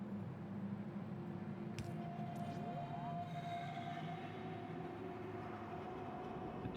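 Trains leaving a station in the video game Factorio: a faint low rumble of rolling rail cars with soft tonal whines and a couple of brief clanks, steady throughout.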